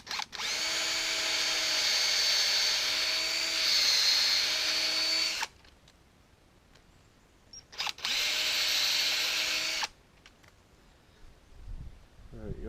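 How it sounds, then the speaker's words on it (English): A power drill bores a tap hole into a maple tree in Michigan, whining steadily for about five seconds, stopping, then running again for two more before falling quiet. "So we're going to go on a slight upward angle with the drill."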